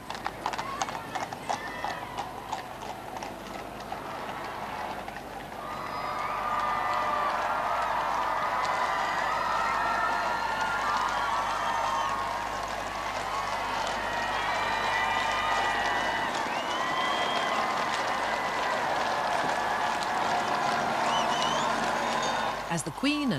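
Crowds cheer at a grand royal procession for the Queen and Duke: a broad, sustained roar of voices swells and holds, mixed with the clip-clop of horses' hooves.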